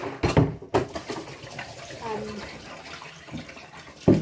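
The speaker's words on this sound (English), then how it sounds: "Yeah, I haven't emptied the water." Water is emptied into a kitchen sink in a few sloshing pours, with loud splashes at the start and end. A voice speaks briefly between them.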